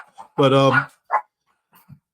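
A dog gives one loud, close bark followed by a few shorter, fainter yips and whimpers, with quiet gaps between them.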